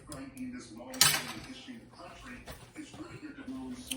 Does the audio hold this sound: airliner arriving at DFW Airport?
no